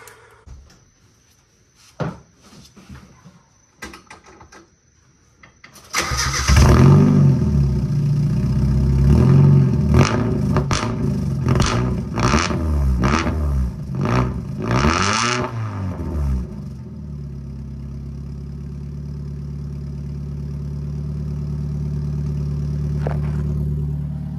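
A few clicks and clunks, then a Mazda Miata four-cylinder engine cranks and fires with a new exhaust that has a leak, blipping through several sharp revs before settling into a steady idle.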